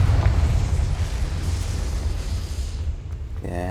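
A Confringo fire spell explodes in Hogwarts Legacy on PS5 with a loud booming blast that rumbles and fades over a few seconds. A short ringing game effect follows at the end.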